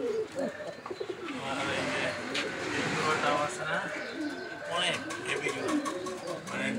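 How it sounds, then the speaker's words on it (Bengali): A pair of Afsan grizzle pigeons, kept as breeding birds, coo steadily and close by, with chirps and a busy background of murmuring voices throughout. "এইখানে দেখতে পাচ্ছেন এক জোড়া আফসান গ্রিজেল বানজা কবুতর।"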